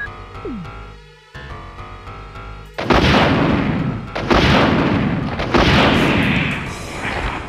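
Rocket launcher fire against Plant 42 in Resident Evil, where tonal game music gives way to a series of loud, booming blasts with long rumbling tails, several heavy explosions in quick succession.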